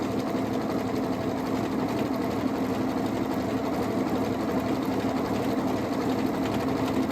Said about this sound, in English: Presser foot down, speed up, off to the races.